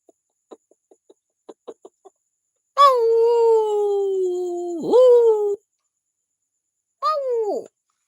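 A person imitates a chicken, giving a few soft clucks and then two long drawn-out cackling calls that bend downward at the end, close and loud.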